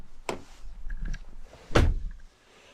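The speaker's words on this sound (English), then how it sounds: "here's remote start and then power operation for both of the sliding side doors" The power sliding side doors of a 2022 Kia Carnival SX minivan operate quietly, with soft motor whirs and two distinct thunks as the doors latch, heard up close without talk.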